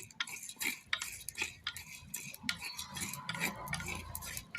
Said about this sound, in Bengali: এই শুকনো খোলায় 3 রকম মশলা ভাজে নামাই নেব।